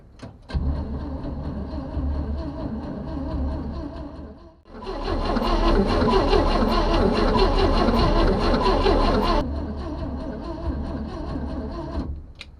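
A 1961 GMC panel truck engine cranking over on the starter with no spark, a steady mechanical whirring churn that grows louder and denser midway, then eases back before stopping, close by.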